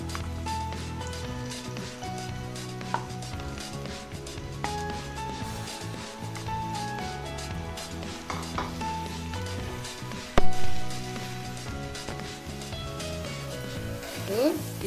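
Mashed potato with onions frying in a pan for poori kizhangu, giving a steady close sizzle with stirring and scraping, a few clinks of utensils against the pan, and a louder clatter near the end; no one speaks.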